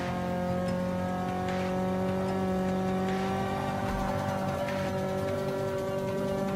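A small, lightweight, underpowered car engine at nearly full throttle in a racing video game holds a steady, loud, buzzing drone with clear harmonic tones and slight pitch shifts as the gears change, with no talk.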